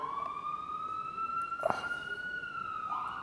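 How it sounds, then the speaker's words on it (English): Emergency sirens in New Brunswick wail outside a hair salon, a faint distant rising and falling tone with a brief click partway through, under quiet room noise. "This is the worst part of New Brunswick because these sirens."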